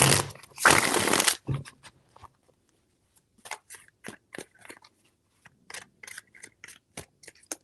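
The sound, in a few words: shuffling tarot cards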